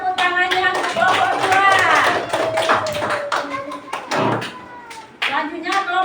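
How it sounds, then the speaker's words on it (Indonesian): Classmates in a primary school classroom clap for a group, a burst of hand claps mixed with children's voices and a teacher speaking over them. "baru tepuk tangannya untuk kelompok"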